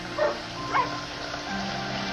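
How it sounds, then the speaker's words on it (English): Two short, faint barks from a Papillon about half a second apart, set back against a steady background hum. "The dog started barking"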